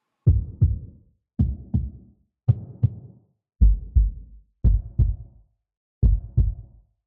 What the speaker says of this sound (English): I thought of heartbeats. I layered 4 sounds together, but here is how they all sound.